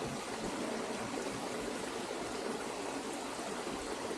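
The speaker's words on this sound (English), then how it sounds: "I love that little waterfall bit over there." Small waterfall and clear stream flowing beside a field of sheep on a countryside walk, a steady broadband rush of water that stays even and close throughout, with no voices.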